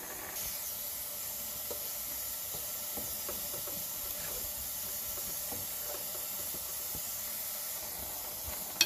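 A pressure cooker, its weight missing, lets off a faint, continuous hiss of steam while pork cooks, with a few soft clicks and a small knock near the end.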